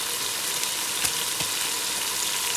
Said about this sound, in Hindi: अब इसको मैं भून लूँगी